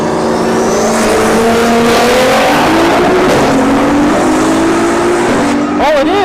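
A Nissan GT-R and a gutted Tesla Model S Plaid roll race down a quarter-mile strip. An engine roars loud and close, its pitch climbing steadily as it accelerates, and a voice speaks briefly over it near the end.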